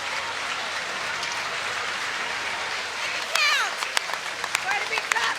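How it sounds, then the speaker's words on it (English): Spectators at a Little League baseball game applaud from both sides, a steady wash of distant clapping from the stands, with voices and a few sharper nearby claps joining toward the end. "Already getting a round of applause from both sides."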